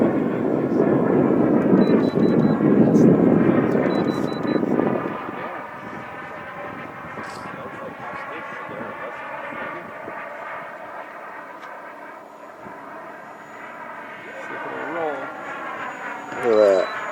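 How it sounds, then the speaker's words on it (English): A 3D-printed Avro Vulcan model jet with a 1 m wingspan, powered by a small FMS 50 mm electric ducted fan, whines steadily overhead with rising and falling pitch, loud wind rumble at first, while people talk throughout. "It's flying on a little FMS 50 millimeter fan."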